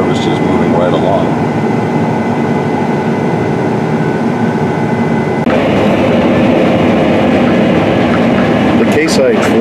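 Case IH 9240 combine with a 4416 16-row corn head harvesting corn in dry conditions, giving a loud, constant mechanical roar and drone close up, under a voice speaking throughout.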